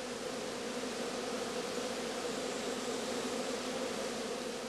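Bees swarming out of a straw skep, a dense, continuous buzzing hum of many insects at close range, steady and unbroken with no voices.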